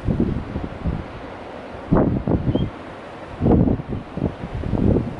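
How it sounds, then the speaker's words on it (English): Strong gusting wind buffets the microphone on an Arctic Ocean coast during a storm, roaring in repeated surges with steady rushing noise between gusts. "The wind's blowing about 30 miles an hour today, with gusts of probably about 40."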